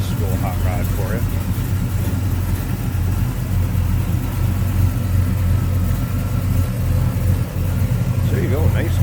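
A rebuilt 327 V8 in a 1967 Chevrolet El Camino idles loudly and steadily up close, a deep continuous rumble throughout, while someone talks over it.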